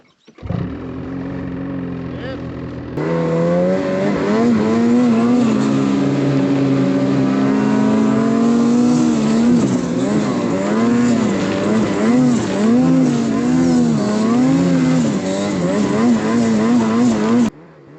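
A snowmobile revs hard while towing a dead sled uphill through snow, its engine loud and close with a wavering, surging pitch throughout, and people talk over it.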